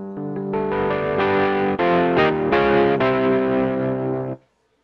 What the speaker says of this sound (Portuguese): eu utilizei nela um piano elétrico, no caso, o famoso Rhodes. Só que com distorção.